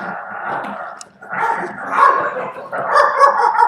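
A person's voice imitates a dog with several rough barks and yips in quick bursts, loud and close, broken by a short pause near the middle.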